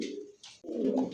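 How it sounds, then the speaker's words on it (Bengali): Pigeons of a prized racing pair coo in soft, throaty bursts close by, one call fading before a fuller, louder coo takes over, with no voices. "ভালো মানের এক জোড়া কবুতর।"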